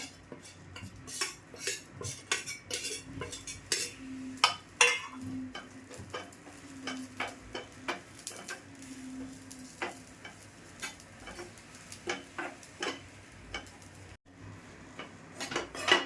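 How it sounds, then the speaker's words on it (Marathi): Dry grated coconut roasts in a pan while a metal spoon stirs and scrapes it in repeated, uneven strokes with light clinks against the pan, close and fairly quiet, with no talking. "आता मी खोबरं भाजून घेते पहिलं"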